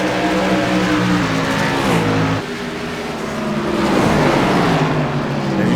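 Xfinity Series stock cars roar down the front stretch at Richmond out of turn 4, a loud pack of engines passing close with rising and falling pitch, one car sweeping by after another.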